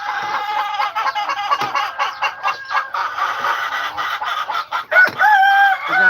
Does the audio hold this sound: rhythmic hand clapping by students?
no